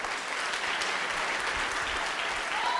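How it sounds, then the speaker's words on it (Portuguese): A church congregation claps together in steady, dense applause that fills the space evenly and stays loud throughout, with no voices standing out. "As palmas são para o Rei."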